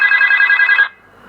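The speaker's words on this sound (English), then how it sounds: "your phone's ringing" A phone rings loudly and steadily right up close for nearly a second, then cuts off abruptly, leaving a quiet background.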